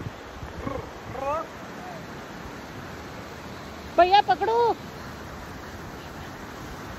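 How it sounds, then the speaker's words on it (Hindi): Steady rushing water from a waterfall in Kashmir fills the background throughout while a few short voices call out over it. "अभी देखो इधर झरना चल रहा है।"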